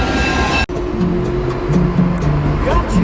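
A car cruises around Silver Lake on a Sunday night, engine droning up and down through gear shifts at close range, with a brief abrupt cut early on.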